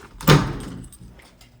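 Closet double doors in a house swing and knock shut with one loud wooden thud, followed by a fainter rattle and a softer bump as they settle.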